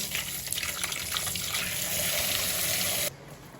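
Tap water runs steadily into a sink as hands are washed, a close, continuous splashing rush that cuts off abruptly near the end, with no talking.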